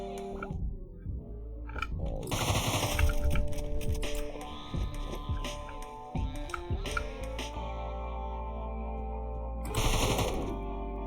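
Gunfire in the video game Deadbolt sounds in bursts of rapid shots amid game music tones and effects, with a loud cluster near the start and another near the end.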